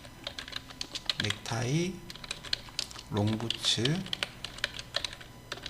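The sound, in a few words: typing data into Excel on a computer keyboard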